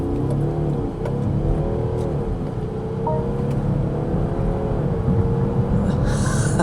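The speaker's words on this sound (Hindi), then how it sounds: "एक्सेलरेटर पे पूरा पैर रख दिया, ऑलमोस्ट क्लोज टू 3000 RPM" A BMW X7's engine revs hard under full throttle toward about 3000 RPM, a loud, close, sustained rumbling drone rising steadily in pitch inside the cabin.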